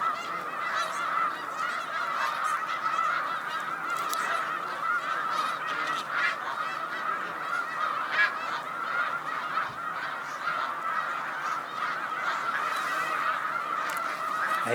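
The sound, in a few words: snow geese honking on Cayuga Lake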